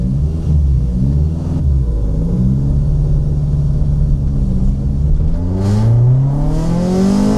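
A Honda Civic EE9 with a JDM B16A 1.6 VTEC engine and manual gearbox rumbles and revs up through the gears while driving, pitch rising and falling in loud, close surges.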